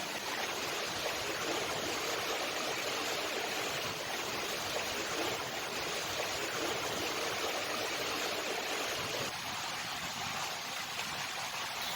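Spring water pours beneath a rock in a steady, dense, broadband rush that stays constant and loud, with no voices over it.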